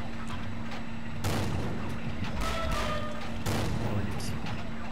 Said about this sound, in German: Nutze hier den T34 aus dem eigenen Team als Deckung und schieße den KV-1 in die untere Wanne.